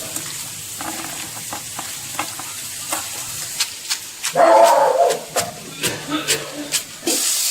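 Spices frying in a pan as tempering for mango ginger pickle, a soft sizzle broken by sharp stirring clicks and scrapes, with a louder burst of frying midway and faint speech-like sounds underneath.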